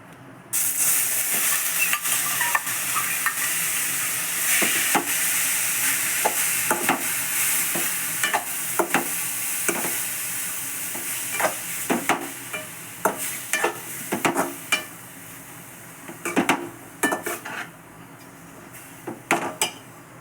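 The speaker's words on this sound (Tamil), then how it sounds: "வெள்ளரிக்காய் நல்லா வதங்கி வரட்டும், வெயிட் பண்ணுவோம்." Grated cucumber sautéing in ghee in a pan for cucumber halwa, a steady close sizzle with frequent clicks and scrapes of a spoon against the pan, busier toward the end.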